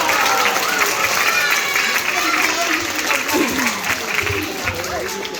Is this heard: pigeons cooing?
no